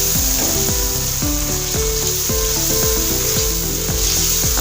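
Chicken and yogurt sizzle steadily in a karahi for butt-style chicken karahi, a continuous hiss beneath prominent melodic background music, with no one speaking.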